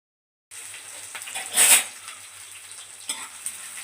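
Green chilies and onions drop into hot oil with a sudden loud crackling sizzle that swells for a moment, then settles into a steady close hiss with a few light pan scrapes.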